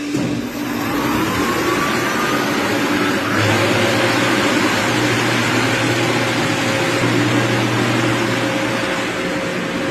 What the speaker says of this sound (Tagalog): mag-test tayo ng fire pump